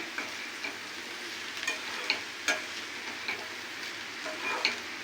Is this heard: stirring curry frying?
yes